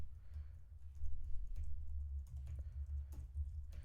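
Keystrokes on a computer keyboard during a live JavaScript coding session, a quiet, close patter of irregular taps in small bursts with no voices.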